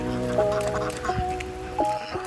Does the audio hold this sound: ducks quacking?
yes